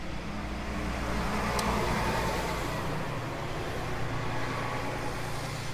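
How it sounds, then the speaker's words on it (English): A bus passes close by on the road, its engine and tyre roar filling the air as a loud, steady wash of traffic noise throughout. "here comes a bus, so I might just pause for a moment"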